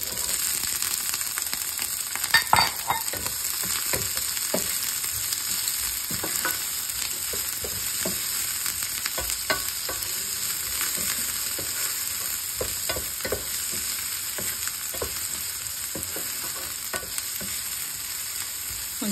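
Onions fry in a pan with a bright, steady sizzle that runs throughout. Occasional scrapes and stirring knocks break in at irregular intervals, with no talking.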